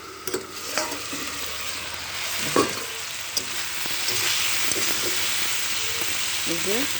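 Potatoes and nylotica fish curry with kolmi greens stalks being stir-fried in a pan, with a steady sizzle and intermittent scraping stirs of a spatula at close range.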